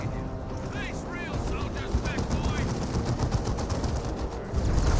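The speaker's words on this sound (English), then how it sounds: "Grey Knight Dreadnought gets a nice hit there with the Plasma Cannon." Sci-fi weapons fire in a Dawn of War 2 battle, a Grey Knight Dreadnought's plasma cannon among rapid gunfire bursts and missile barrages, sounding as a dense, continuous stream of shots and impacts with a caster talking over it.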